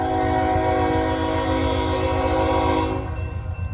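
An eastbound BNSF freight train blares its multi-tone horn up close in a loud, sustained chord lasting about three seconds, with a rumbling, rhythmic rail clatter underneath that continues as the horn cuts off.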